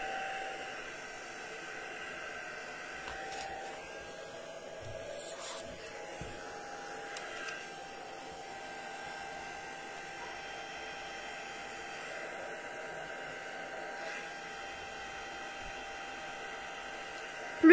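A heat gun set to slow speed blows steadily on alcohol ink drops for a marbled effect, giving a faint, continuous airy whir with a low hum, close and unbroken, with a few light clicks and no talk.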